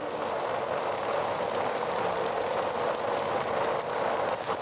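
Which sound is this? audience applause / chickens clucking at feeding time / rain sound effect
rain sound effect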